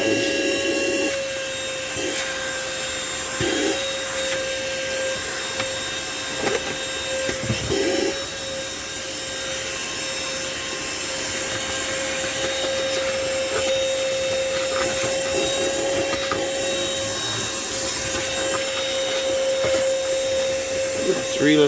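A portable car vacuum cleaner runs continuously at close range with a loud, steady motor whine and airflow roar, with someone talking over it.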